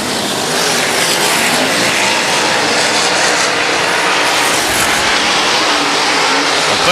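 Sprint race cars roar wheel to wheel around a dirt track, a dense, loud, continuous engine drone with overlapping cars close by and no pauses.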